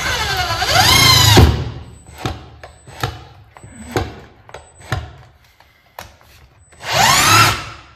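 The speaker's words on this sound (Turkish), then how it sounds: "Bir de şöyle bir ahşap üzerinde bir vida atayım." A cordless power drill driving a 5 to 7 centimetre screw into wood, a loud whirring rise at the start and again near the end, with scattered clicks and knocks between.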